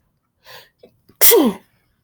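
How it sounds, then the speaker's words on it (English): A few soft breathy inhales build up, then one loud, sharp sneeze bursts out close by, followed by quiet. "Oh, hold on, I gotta sneeze."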